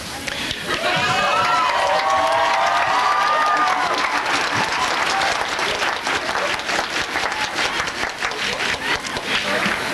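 A large audience at a college commencement bursts into applause, loud dense clapping with some cheering that holds steady, with voices chattering underneath.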